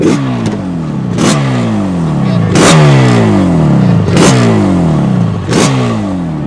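A Yamaha RD350 two-stroke motorcycle engine is blipped four times, each sharp rev rising and falling back to a rattly idle, loud and close with no talking.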